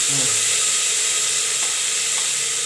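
Ginger, garlic and green chilli fry in a pan with a loud, steady, close sizzle that lasts throughout, with no talking.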